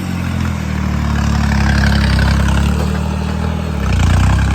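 A tractor engine, recently given a fuel pump adjustment, runs loud and close with a steady, deep diesel rumble. Near the end it swells briefly as it is revved harder.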